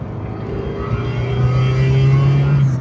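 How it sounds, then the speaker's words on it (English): A Vauxhall Astra engine revs up close while rev matching, the low droning pitch climbing and holding high before easing off near the end. "Let's do some rev matching, as you do."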